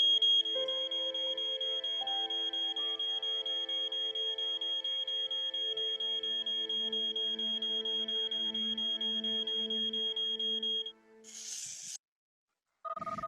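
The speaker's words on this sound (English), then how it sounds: "Now the smoke has set the smoke alarm off." A domestic smoke alarm shrills continuously in a house with smoke drifting from a downstairs room, a loud, steady, piercing electronic tone. It cuts off near the end after a brief burst of noise.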